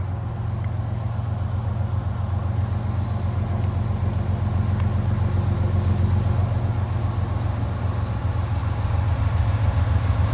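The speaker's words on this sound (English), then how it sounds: "we got a southbound CSX coming right now" A southbound CSX freight train comes around a curve and passes, a steady low diesel rumble with wheel and car noise building gradually, heard at moderate distance without talk.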